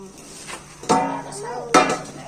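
Pots and dishes being scrubbed and washed give a couple of sharp metallic clanks and clinks over a quiet background.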